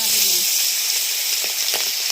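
Loud, bright hissing sizzle of peppercorns in hot oil fills the clip, with faint crackles near the end before it cuts off.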